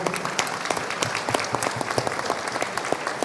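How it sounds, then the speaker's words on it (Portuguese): A room of people at a political panel claps for a woman deputy, a brisk, steady patter of many hands sustained throughout a short stretch. "uma salva de palmas para a nossa deputada"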